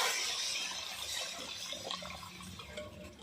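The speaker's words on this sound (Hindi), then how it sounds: "अभी हम इसमें गुड़ वाला पानी ऐड कर देंगे।" Jaggery water pours into a pot of rice in a home kitchen, a continuous splashing gush that starts loud and eases slightly over three seconds, with no one talking.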